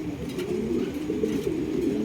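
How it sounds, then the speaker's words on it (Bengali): A pair of black King pigeons coo on a pigeon farm, a low, continuous rolling murmur, loud and close, with no talk. "রয়েছে এক জোড়া ব্ল্যাক কালারের কিং কবুতর দেখতে পাচ্ছেন"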